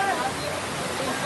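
Floodwater rushes down a city road in Jaipur during heavy rain, a loud continuous broadband roar of fast-moving water carrying mud, steady and close throughout.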